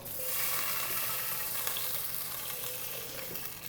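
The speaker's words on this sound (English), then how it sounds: "I'm gonna rinse it off, it's gonna sizzle." A hot pan hisses and sizzles steadily as water rinses garlic off it, a continuous crackling spray that swells briefly then settles, close by.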